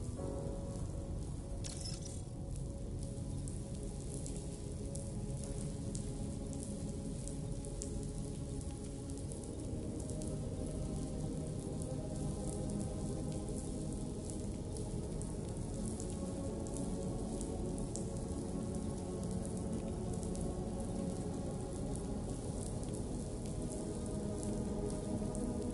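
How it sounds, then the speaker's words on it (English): Steady rainfall in a video game, a dense close patter of raindrops on hard surfaces that holds without a break, with no voices. "Raindrops falling"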